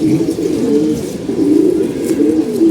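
Several racing pigeons coo nearby, a steady stream of low, throaty warbling calls that rise and fall in waves.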